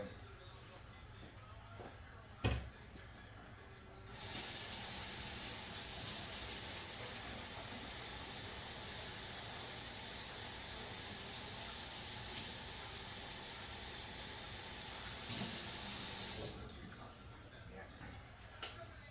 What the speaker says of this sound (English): I'm gonna add a little water to it too.